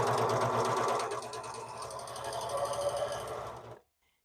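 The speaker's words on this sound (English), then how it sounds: "you press your foot pedal. And you can see that the machine grabs the fabric very quickly." A serger whirs rapidly in a dense mechanical buzz of stitching fabric for several seconds, then cuts off abruptly into silence.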